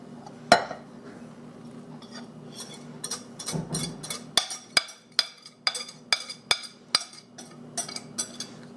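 Wet ingredients being mixed into dry in a bowl for apple bread, a spoon striking the bowl in a run of sharp, fairly regular clinks and taps, close and moderately loud, with no talking.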